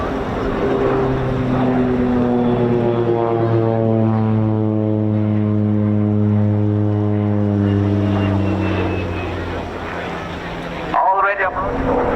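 A single-engine propeller aerobatic plane with a 550-horsepower Pratt & Whitney turbine flies a display at an RAF Cosford air show, its loud, steady, droning tone sliding lower in pitch as it passes, with a brief rougher burst near the end.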